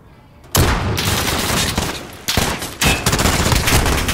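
Automatic AN-94 rifle fire in a video game: a dense, loud burst of shots starting suddenly, with two brief breaks before the firing resumes, close and continuous.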